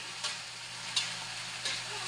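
Sautéing in a pan while cooking pancit, a soft steady sizzle marked by three evenly spaced scrapes of a spatula, close and alone without talk, over a low constant hum.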